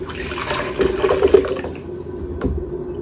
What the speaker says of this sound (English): So I'm just gonna pour this in the blender